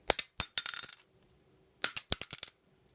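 Dunlop Jazz guitar picks clink and clatter in a sink in two quick bursts of several taps each, bright and glassy, separated by a pause of silence.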